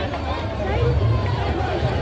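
Dense crowd babble at a Ganesh idol immersion, many overlapping voices and a general hubbub outdoors, steady and fairly loud with a voice nearby.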